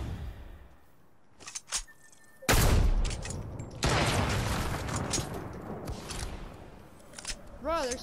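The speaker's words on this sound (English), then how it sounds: "he's definitely shooting at someone else" Gunfire in an online shooter game: a few distant cracks, then a loud close burst and a longer rattling volley that fades, with short clicks near the end.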